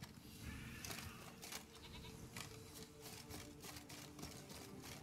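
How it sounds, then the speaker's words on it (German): Goats bleat among the ambient sounds of the video game Witcher 3: Wild Hunt, Blood and Wine, faint and mixed into a steady background of wind and crackling noise. "Oh, Ziegen."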